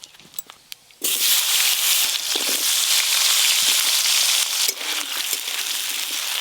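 Potatoes and mixed vegetables hit hot oil tempered with cumin in a home kitchen pan, bursting into loud, steady sizzling after a few soft clinks, the hiss dipping briefly near the end.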